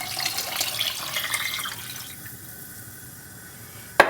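Water, eight cups, poured into a cooking pot for homemade chicken broth, a steady splashing pour for about two seconds that softens into a quieter trickle before a sharp knock at the end.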